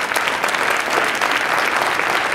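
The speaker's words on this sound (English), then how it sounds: "Let's give them a round of applause." Steady applause from a crowd of attendees at a Black History Month celebration honoring students, dense and even throughout with no talk over it.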